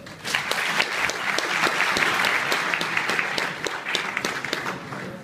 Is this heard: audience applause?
yes